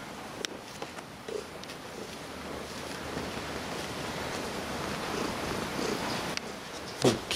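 A contented cat purrs steadily and softly up close, a continuous low rumble with some breathy background noise, ending in a brief louder rustle.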